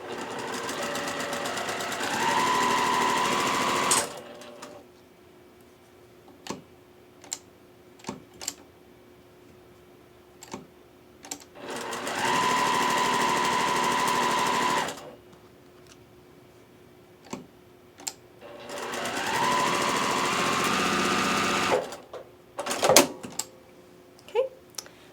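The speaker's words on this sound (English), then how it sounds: "we're going to start at the top and sew to the bottom" Sewing machine chain piecing quilt block pieces at 2.0 stitch length: three rapid whirring stitching runs of several seconds each, separated by quiet gaps with small clicks and handling taps.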